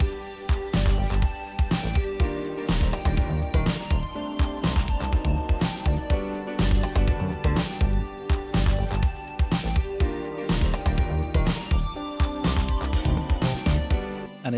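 A synth melody built with Reaktor software carries an electric-guitar tone over a steady beat, with punchy drums and a repeating phrase playing continuously at full level, without any voice.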